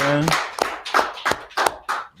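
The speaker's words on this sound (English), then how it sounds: "Clap it up for the sisters who cook the food" Applause for the sisters who cooked the food at a Purim feast closing, a few quick bursts of clapping hands, fairly close, with a voice briefly heard at the start.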